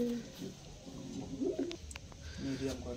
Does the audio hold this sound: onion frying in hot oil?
no